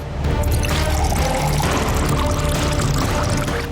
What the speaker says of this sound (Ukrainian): Якщо додати у цей спирт води,